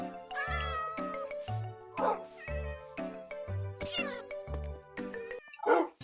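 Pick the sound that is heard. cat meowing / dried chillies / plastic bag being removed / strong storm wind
cat meowing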